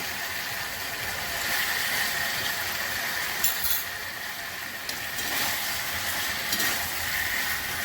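Ghee sizzles in a pan while a mixed-vegetable curry with fish head cooks, giving a steady close-up crackling hiss that holds at an even level throughout with occasional faint stirring scrapes.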